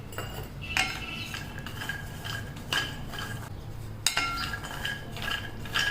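Almonds and walnuts rattle and scrape in a pan as they are stirred over a low flame, with repeated clinks of a utensil against metal and a faint ongoing rustle between strokes.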